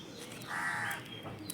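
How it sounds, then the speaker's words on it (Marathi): A single crow's harsh caw rings out once, fairly close and clear, over a quiet outdoor background. "आता बघितलं ना कावळ्यांचा आवाज येतोय बघा मोबाईलमध्ये"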